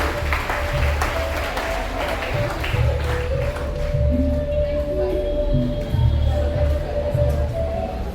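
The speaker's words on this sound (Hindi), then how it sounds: "जोरदार तालियों से स्वागत होना चाहिए" Applause from a school audience at a Guru Purnima ceremony greets a student called to the stage, a steady crowd clapping wash blended with a persistent tonal hum and murmuring voices.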